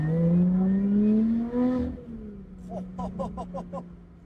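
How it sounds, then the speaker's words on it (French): Lotus Exige 410S engine revving, its supercharger whistling as the revs climb; a rising tone sweeps upward, then drops away and gives way to a quick run of sharp rhythmic pulses, heard close and alone. "le compresseur direct qui se met en route"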